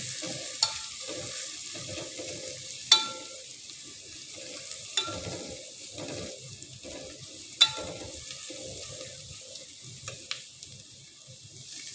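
Chopped garlic and onion fried in a pan until golden, a soft sizzle broken by repeated spatula scrapes and a few sharp metallic knocks, close and fairly quiet, with no talking.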